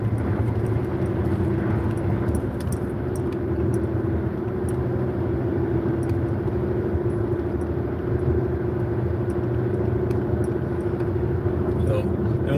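Steady low road rumble from a car driving along Gravois, also called Highway 30, in a rural area, continuous and even throughout, with a person talking over it.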